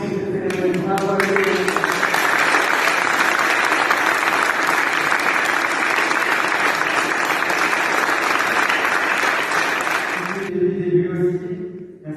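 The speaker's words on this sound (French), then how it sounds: "Je pense que vous pouvez les applaudir vraiment très fort aussi." A large audience at a princely coronation ceremony applauds loudly, a long, dense wash of clapping framed by brief spoken moments at the start and end.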